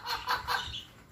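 Arab laying hens kept at home cluck in three or four quick, soft bursts close by, with no voices over them.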